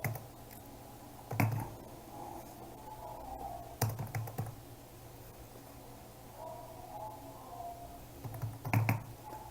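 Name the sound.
typing a number on a computer keyboard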